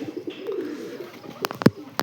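A pigeon kept for pigeon-flying contests coos in low, throaty, rolling tones close by, ending with a few sharp clicks.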